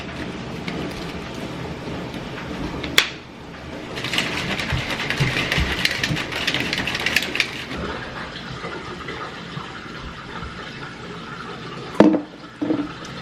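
Almond milk poured into a container, about 8 ounces: a steady liquid pour lasting several seconds, framed by clicks and clattering of a lid or mechanism before and after, no talking.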